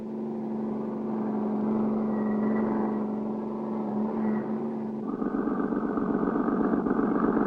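A car driving off in a 1959 cartoon chase set in Africa: a steady engine hum that swells, then a rougher, louder revving drone as it speeds away, with no voices.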